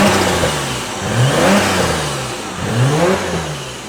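Nissan R34 GTR engine revving in two strong rising pulls, each swelling up and then settling back toward a rumbling idle, loud and close with no talk over it.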